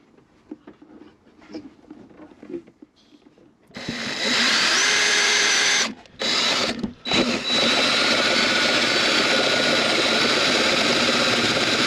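After some quiet handling noises, a power drill whirs loudly and steadily, drilling at an angle during a sink and cooker install in a T5 camper, cutting out briefly twice before resuming for several seconds.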